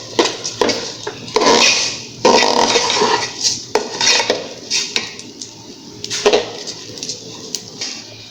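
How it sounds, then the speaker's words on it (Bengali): Polao rice is stirred in ghee in a pot, producing close, loud scraping and clanking of a metal spoon against the pot in irregular bursts with brief pauses between strokes. "আমি এখন পোলাও চালগুলো ঘিয়ের উপরে ভাজি করতে আছি।"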